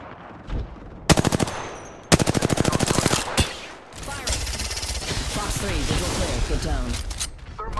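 Apex Legends gunfire, with a single shot followed by sharp, loud bursts of rapid automatic fire, then a denser, noisier stretch of combat effects and game sounds.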